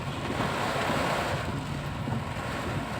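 Strong wind and heavy rain lash a car during a rainy commute, a dense, continuous roar of wind buffeting and water noise with no pauses or voices.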